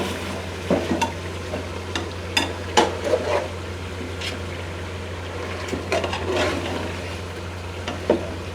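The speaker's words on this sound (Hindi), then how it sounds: "मसाला डालने के बाद हम इनको अच्छी तरह से भूनेंगे 5 मिनट तक" Meat and nihari masala fry in a pan while being stirred, giving a constant low sizzle broken by irregular scrapes and clinks of the spoon against the pan. Close and fairly loud, with no talking.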